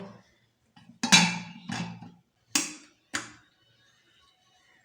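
A pressure cooker lid, with its whistle and rubber gasket removed, is fitted and closed with four sharp metallic clunks, close and fairly loud, spaced about half a second apart with quiet between them.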